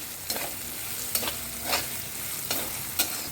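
Diced potato and green chillies frying in a pan for fasting khichdi, a steady sizzle broken by several sharp stirring scrapes at irregular intervals, close and without speech.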